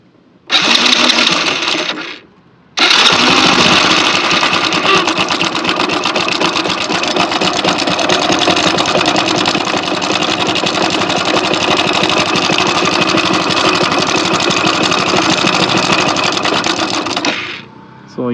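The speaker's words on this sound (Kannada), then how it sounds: "ಸೊ ಒಮ್ಮೆ ಇಂಜಿನ್ ನಾಯ್ಸನ್ನು ಕೇಳಿಸ್ಕೊಳ್ಳಿ" A Hero Honda Passion Pro motorcycle engine burning oil and needing a bore job starts, stops briefly, then restarts and runs at a loud, steady, rattling idle with a tappety knock before cutting off.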